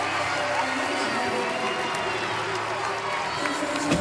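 A crowd at a 2016 NCAA women's gymnastics meet between Georgia and Auburn cheers and roars for a gymnast's release move, a sustained arena din with a commentator talking over it.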